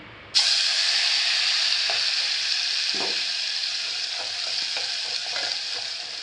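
Cumin and curry leaves frying in a pan as they are stirred, a loud steady sizzle that starts abruptly and carries on with light scraping strokes of the spoon underneath, close and without talking.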